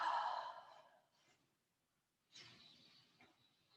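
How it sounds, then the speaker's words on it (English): A slow yoga breath during a hatha class: a soft audible exhale fades out, a pause of quiet follows, then another airy breath begins, close and gentle. "Inhale, exhale."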